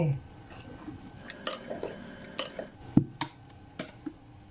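A utensil stirs banana cake batter mixed with rice bran oil in a bowl, clinking and scraping against the sides in irregular taps and knocks, fairly close and quiet.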